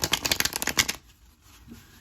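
Tarot cards being shuffled by hand, a quick run of close, crisp riffling flutters for about a second, then near quiet with faint room noise.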